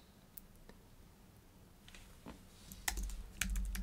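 Keys tapped on a computer keyboard while entering text in photo-editing software, a few faint clicks early on building to a denser burst of louder keystrokes near the end, close and quiet.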